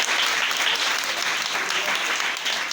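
A church congregation applauds to acclaim the Lord, a dense, steady wash of many hands clapping close by that holds for the whole stretch with no voices standing out.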